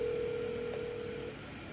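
A phone is dialed to call a hospital, giving a steady tone that cuts off partway with a faint blip in the middle, no voices alongside.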